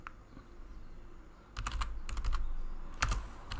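Keys clatter on a computer keyboard in quick, irregular bursts of typing, close and fairly quiet, with short pauses between flurries.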